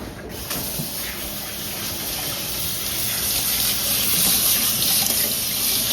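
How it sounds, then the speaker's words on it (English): A towel is rinsed under a running kitchen tap, with a steady loud gush of water splashing into the sink that swells slightly as it goes on, and no voices. "We rinse it out."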